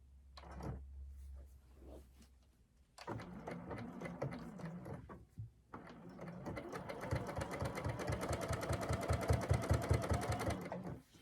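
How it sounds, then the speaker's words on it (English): A sewing machine stitches a half-inch seam around a jacket of batik canvas and batik cotton, running in short bursts and then settling into a long, steady, rapid run of needle strokes close to the listener. "then simply stitch a 1/2 inch using a 1/2 inch seam all the way"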